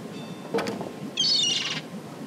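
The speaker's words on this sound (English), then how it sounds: "I think that bird will peck my hand off." In The Secret of Monkey Island Special Edition, a bird gives a brief chirp, then a longer, bright, fluttering call over faint background ambience.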